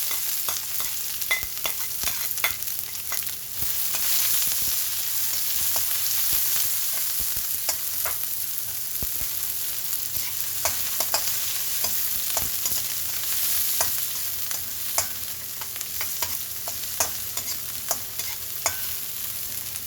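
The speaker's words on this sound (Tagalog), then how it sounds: "Magluluto tayo ng sinangag. Lagyan natin ng bawang, sibuyas," Fried rice cooking in a pan, garlic and onion sizzling steadily while being stirred, with scraping clicks of a utensil scattered throughout; close and continuous, with no talking.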